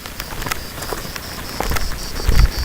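Light rain patters on a surface in an outdoor garden, dense scattered drops with a steady hiss that grows a little heavier toward the end, no voices.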